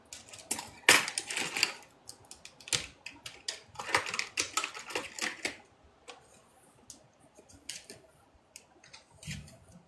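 Crisp, irregular snipping and rustling as scissors cut synthetic wig hair close by for about six seconds, then quieter scattered clicks and brushing sounds.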